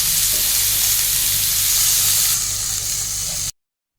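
Mustard seeds frying in hot oil with pepper powder for Kerala kadala curry, a loud, steady close-up sizzle and crackle that cuts off abruptly near the end.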